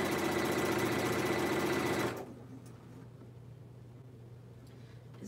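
Sewing machine stitching a quarter-inch seam through a quilt block with fusible interfacing, a steady loud close-up hum running for about two seconds before stopping abruptly, leaving a low background drone.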